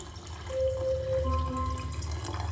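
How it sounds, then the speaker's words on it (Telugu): Water running into a pot for chicken bone broth, a continuous splashing pour with a rising ringing tone as the pot fills, close and steady, with no speech. "ఆ లైన్ వరకు వాటర్ అనేది వేసేస్తాను"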